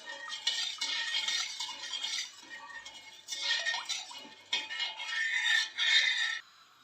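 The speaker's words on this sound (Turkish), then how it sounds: "Hemen şöyle karıştıralım şekerimiz eriyene kadar." A spoon stirs sugar syrup for a kadayıf dessert in a pot on a stovetop, scraping and clinking against the metal in close, uneven bursts with brief pauses between them.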